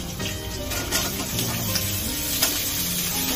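Diced pumpkin pieces hit a hot frying pan already holding lightly fried potatoes for a vegetarian pui shak chorchori, giving a steady, fairly loud sizzle with a few stirring scrapes and pops.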